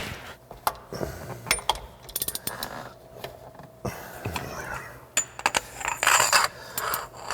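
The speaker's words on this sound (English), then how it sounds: "So back on the inside with a breaker bar, let's see if we can get it to turn over." A breaker bar and wrench work on the crankshaft pulley bolt of a barn-find De Tomaso Pantera engine parked for 45 years, giving sharp metallic clicks and ratcheting clanks in irregular bursts, close by with no talk.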